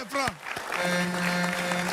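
Audience applause breaks out at a comedy show, a burst of clapping that rises under a speaking voice and carries on as a steady patter.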